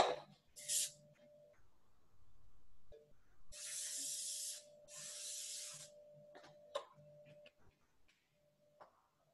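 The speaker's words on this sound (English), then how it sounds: "Spray some oil." Two short hissing bursts of aerosol cooking oil sprayed onto a tray, close by, amid quiet kitchen clatter and a low background hum.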